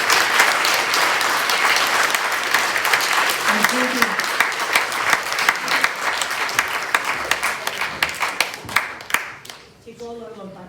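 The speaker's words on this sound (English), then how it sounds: "So once again, quick round of applause." An outdoor May Day rally crowd in Edinburgh applauds loudly, the dense clapping thinning into separate slower claps before a voice briefly speaks at the end.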